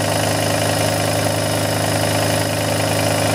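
A Kromrey generator runs steadily at about 1560 RPM, giving a loud, continuous mechanical hum with a constant engine-like drone and a faint vibration throughout, with no voices.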